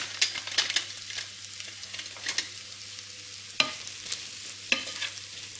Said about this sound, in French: On prend une poêle et on met 40 g de beurre. Et on va mettre aussi les champignons dedans.